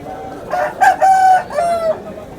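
A rooster crows once at the Gokavaram chicken market, a loud, close, multi-part call lasting under two seconds over a faint background.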